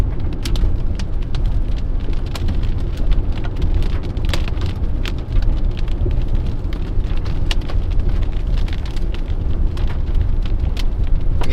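Hail pelting down in a severe Colorado storm, a dense continuous patter of hard impacts with sharp individual cracks scattered throughout, steady and loud for the whole stretch, no voices.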